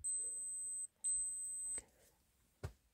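An analog chronograph wristwatch's built-in alarm emits two sustained high-pitched electronic beeps, close and clear with a short gap between them. A couple of sharp clicks from handling the watch follow.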